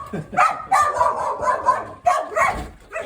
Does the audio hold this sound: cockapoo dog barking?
yes